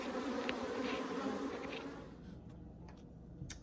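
Honey bees swarm and buzz at a homestead hive in a steady, close drone that thins out partway through, leaving scattered nearby buzzing passes.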